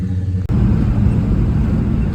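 A 1968 Pontiac LeMans GTO, back from the shop after sitting for years, starts off on the road: after a brief pause the loud, low rumble of engine and road noise runs steadily throughout, close and continuous with no talking.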